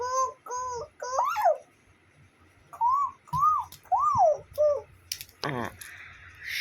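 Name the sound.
child imitating bird calls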